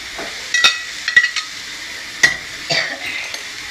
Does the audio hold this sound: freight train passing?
no